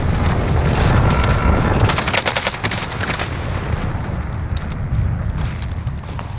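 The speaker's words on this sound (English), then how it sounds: "Allied precision airstrike incoming" A precision airstrike in the Call of Duty Warzone video game: a dense cluster of explosions and rattling blasts in the first few seconds, easing into a rumbling, crackling tail.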